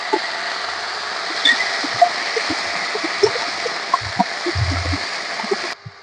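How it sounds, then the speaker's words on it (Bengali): Water is poured into a pan holding potato, greens and peanuts, giving a steady close trickle and splash with faint clinks, then stopping abruptly near the end. "এরপর আমি এর মধ্যে অল্প একটু জল দিয়ে দেব"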